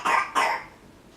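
Two quick coughs in succession, close by, followed by quiet.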